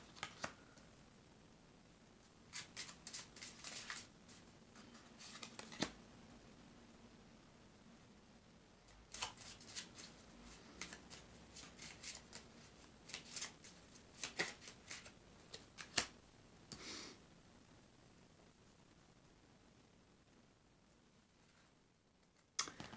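Soft, faint tarot card shuffling in quiet bursts, papery riffles and light clicks repeating over a hushed background.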